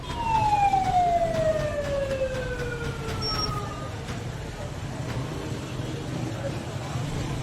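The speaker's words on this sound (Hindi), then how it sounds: "एम्बुलेंस का साउंड सुनाई देने लगा।" An ambulance siren on a street in Bahawalpur during an emergency gives one loud wailing sweep that falls in pitch and fades, over steady background street noise.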